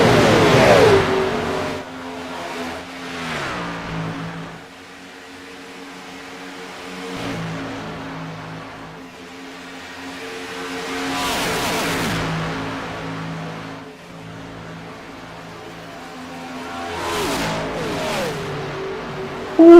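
Gen 4 stock race car engines in a racing game at Talladega roar and rev repeatedly, rising and falling as cars pass with whooshing sweeps, loud and continuous with no talking.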